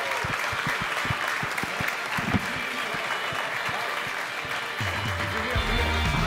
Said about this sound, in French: Merci d'applaudir Marie-Ange Casta et Andrés Velancoso.